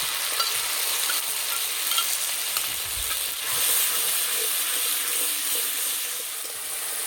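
A yogurt and spice paste fries in a pan with tomato and ginger, giving a continuous dense hiss with faint stirring underneath and a brief swell partway through.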